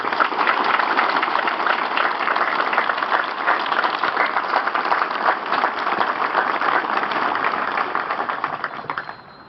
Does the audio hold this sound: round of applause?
yes